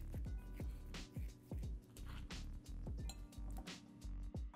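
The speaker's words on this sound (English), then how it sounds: "then we're gonna mash them with a whisk" A whisk clinks repeatedly against a bowl while mashing avocados for guacamole, quick rhythmic taps close up with soft squishing between them.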